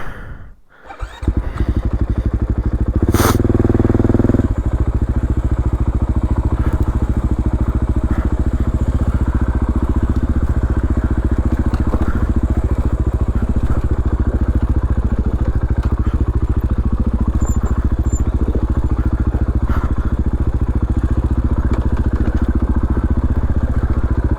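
A motorcycle riding a mountain trail, its engine running loud and close with a steady rumbling drone and clattering for the whole stretch after a brief start, without talk.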